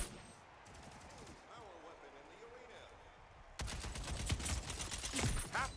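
Light machine gun fire in the first-person shooter Splitgate 2, starting after a quieter stretch, then a sudden loud sustained burst of rapid automatic shots running to the end, with a voice speaking in the early part.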